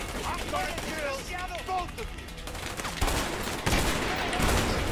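Gunfire from a headshot in the video game A Way Out, a burst of sharp shots over game noise and background sound, moderately loud.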